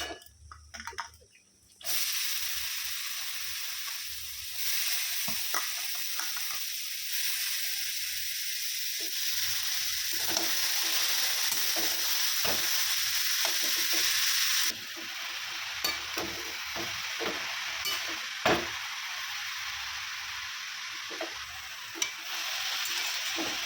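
Grated carrots fry in ghee with cashews, giving a steady bright sizzle and hiss in a pan, broken by occasional scraping and stirring clicks from a spatula over about twenty seconds.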